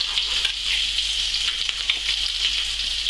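Trout fillet sizzling skin side down in a hot pan, a steady close hiss of frying oil with small crackles and pops running continuously without a break.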